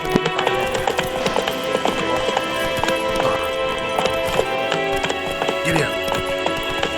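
A horse gallops in The Witcher 3 video game, rapid rhythmic hoofbeats pounding steadily under a busy layer of ambient game sound, with a voice talking over it.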